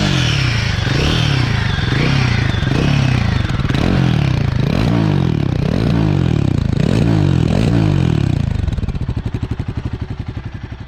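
Royal Enfield Guerrilla 450 single-cylinder motorcycle on a ride, its engine loud and close with pulsing rises in revs and low thumping throb, settling into a slower, rhythmic idle-like beat near the end.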